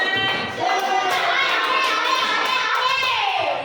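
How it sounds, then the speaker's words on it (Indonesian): Children in a classroom clap for group four, a steady dense patter of many small hands filling the room, with kids' voices chattering and calling over it. "Tepuk tangan buat kelompok empat."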